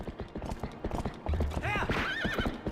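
Horse hooves clop in a quick rhythm in The Legend of Zelda: Twilight Princess, then a loud rising neigh rings out near the end, with a person talking over it.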